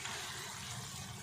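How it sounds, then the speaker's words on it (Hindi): Water poured into a pan of potato and egg curry, a steady broadband splashing gush lasting the whole moment, close and fairly loud with no talk. "अंडे हम डालेंगे तो उससे पहले हम 2 से 3 टेबलस्पून इसमें पानी डालेंगे"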